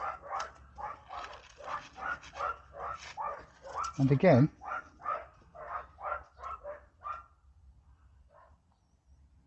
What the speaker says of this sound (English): I don't know why those dogs are barking